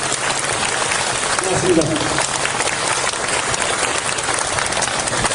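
Audience applause at a signing ceremony in a hall, with steady clapping running throughout and a single voice briefly saying thanks over it partway through.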